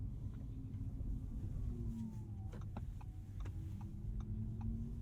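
Quiet cabin of a 2022 Audi e-tron GT Performance Pack electric car while driving, with a steady low road rumble and soft synthetic hum, a faint gliding tone and scattered light ticks throughout.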